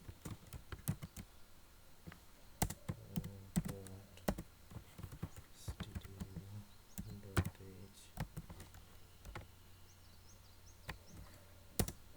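C code is typed on a computer keyboard, producing faint, irregular key clicks and clacks in bursts, with a soft tonal hum and a low murmur in the background.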